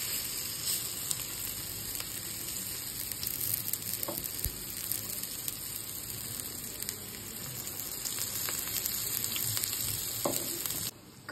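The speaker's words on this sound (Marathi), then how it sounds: "छान असे खमंग होईपर्यंत आपल्याला भाजून घ्यायचे." Hara bhara kebabs shallow-frying in a pan, a steady close sizzle and crackle with a few light clicks, no talk.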